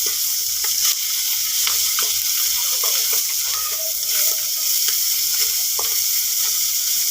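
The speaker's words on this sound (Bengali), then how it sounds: "মাছগুলো একটু ভাজা হয়ে গেছে, এই যে দেখুন।" Small native Bangladeshi fish, with prawns just lifted out, fry in a pan with a loud, steady sizzle and crackle throughout, broken by occasional clinks and stirring sounds, close up with no talking.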